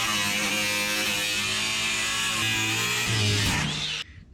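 A power grinder whirs steadily at close range on a homemade dump bed for a mini dually work truck, a bright sustained buzz that wavers slightly before cutting off abruptly.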